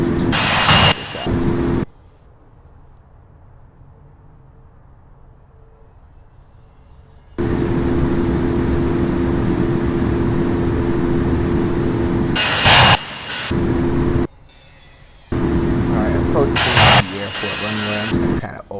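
Simulated aircraft engine in the Infinite Flight flight simulator game, a steady broadband drone through most of the span, briefly dropping to a quiet low hum early on, with short gaps and loud bursts, while a person talks over it.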